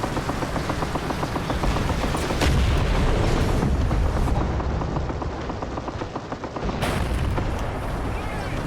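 Tank cannons fire in War Thunder among a Tiger 2, an IS-4 and a T-10M, heavy booms over continuous rumbling battle noise and rapid mechanical rattling, with a sharp blast midway and a voice speaking underneath.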